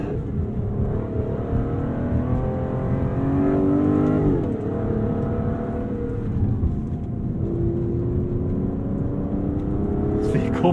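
An Aston Martin DB11 V12 accelerates hard under manual paddle-shift control, heard from the cabin. Its loud, steady engine roar climbs in pitch, dips briefly at a gear change midway, then climbs again.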